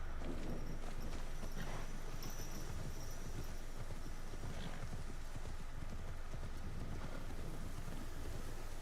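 Horse hooves clip-clop steadily in Assassin's Creed Shadows, a continuous rhythmic trot over a wind-like ambient rush.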